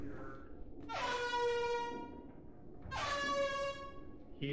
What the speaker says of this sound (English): He's complaining with an air horn.